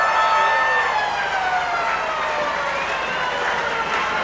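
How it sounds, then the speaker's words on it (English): An end-of-match siren sounds at an Australian football game, a Northern Territory Football League representative side playing in 1988. It is a loud, sustained wailing siren that holds steady for several seconds with no talk over it. "That is the siren."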